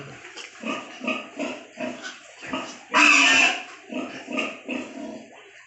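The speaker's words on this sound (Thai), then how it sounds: "เพราะว่า หมูมันบางตัวมันก็จะเสียงดัง" Landrace pigs, sows with young piglets, grunt and oink repeatedly in a rhythmic series, with one louder squeal in the middle, close by on a farm.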